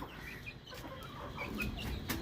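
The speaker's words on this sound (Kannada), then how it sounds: "ನಾಟಿ ಕೋಳಿ ಫಾರಂ" Black country chickens at a farm cluck softly in a low, steady background chatter, fairly faint and without any talking.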